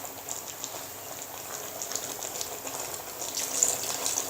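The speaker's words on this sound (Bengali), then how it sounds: "এখন এর ভিতরে আমি আরও অল্প একটু পানি দিয়ে দিব" Water is poured into a pot of ridge gourd and hilsa fish stew, making a faint, continuous trickling and splashing that grows a little stronger toward the end. No voices are heard.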